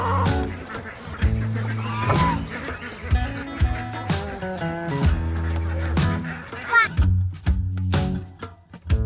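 A goose named Greg among chickens and ducks grazing on fresh grass on a farm, honking repeatedly at close range amid a busy chorus of other fowl calls.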